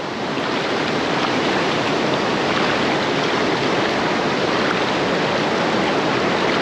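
Water rushing steadily along a stream on a deep forest road, a dense, loud, unbroken flow heard up close with no other sounds standing out.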